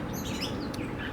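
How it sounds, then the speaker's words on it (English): A loud outdoor bird chirps near a 1964 Ford tractor radiator repair, several high tweets and short trills over a steady background hiss. "I got a loud bird behind me, so just ignore him."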